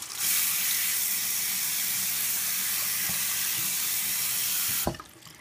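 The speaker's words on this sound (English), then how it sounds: "And I'm cleaning my bio bag for my fish tank." Running tap water pours steadily over an aquarium bio filter bag being rinsed in a sink, a loud continuous hiss that cuts off sharply near the end.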